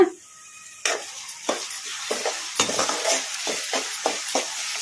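Finely chopped onions drop into hot oil in a pan and fry with a steady sizzle, while spoon strokes scrape through them in repeated sweeps after a brief quiet start.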